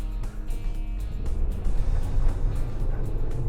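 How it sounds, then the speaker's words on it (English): A Toyota Corolla Cross or Subaru Crosstrek with AWD spins its wheels in deep snow, the engine droning hard and steady with scrabbling, churning texture throughout, heard loud and close from inside the vehicle. "this is actually where you want the wheels to spin when you're in the deep snow and not yet stuck"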